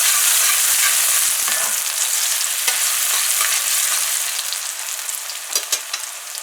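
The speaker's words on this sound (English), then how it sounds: "So our onion has fried for about a half a minute or so." Onion sizzles in a pot for chicken curry, a loud, close, steady hiss of frying with occasional stirring clicks and scrapes.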